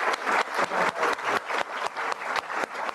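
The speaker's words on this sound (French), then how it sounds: "Et on applaudit aussi Lourdes pour tout l'énorme travail de coordination qu'elle fait." An audience claps at a Buddhist meditation gathering to thank a translator for the Spanish sangha. The applause stays steady and dense, with rhythmic bursts of clapping that fill the full three seconds and carry no voices.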